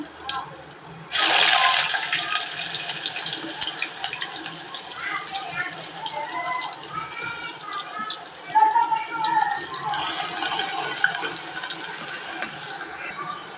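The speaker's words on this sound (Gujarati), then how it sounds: "આવી ગયું છે તેલ. આપણે ચાલો તુરિયા નાખી દઈએ." Sliced ridge gourd hits hot oil in a cooking pan, giving a loud, close sizzling burst that settles into a steady crackle while a person talks, with a second strong sizzle flaring near the end.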